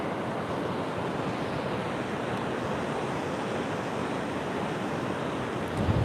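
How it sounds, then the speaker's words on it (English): Strong wind roars steadily across a beach with surf breaking, a dense, constant rush with buffeting on the microphone and no voices. "That's a lot of wind."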